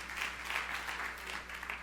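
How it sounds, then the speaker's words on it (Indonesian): A church congregation applauds during a sermon, with continuous, dense clapping from many hands filling the room at a moderate distance. "Tepuk tangan yang meriah untuk kemuliaan nama Tuhan."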